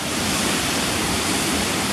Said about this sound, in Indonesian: Di bawah itu ada sungai.